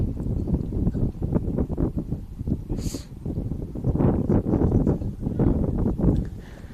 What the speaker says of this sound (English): Wind still gusting here at Hurricane High School.